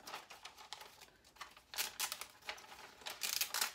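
Cut pieces of infusible ink transfer sheet are popped out by hand, giving a quick, irregular run of close crinkly snaps and light crackles with no talking.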